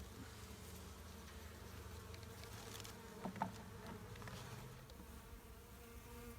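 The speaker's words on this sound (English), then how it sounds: "we have more bees hanging around, not giving up on that tree" A small late-season swarm of honeybees buzzing around a newly closed hive beside a tree, a steady low insect drone with individual bees passing close by, faint and continuous with no voices.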